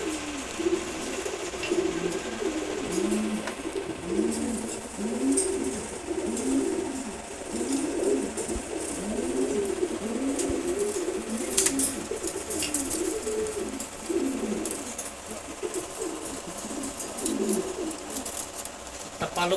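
Racer pigeons coo in repeated soft rolling phrases, several birds overlapping close by in a steady continuous chorus, with faint rustling in the background and no talk.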